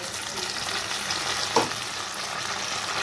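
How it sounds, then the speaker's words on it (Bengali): Ginger paste frying in a pan for a spicy fish curry, giving off a steady, dense sizzle throughout with one brief scrape or stir partway through. "এখানে আমি দিয়ে দিচ্ছি আদা বাটা"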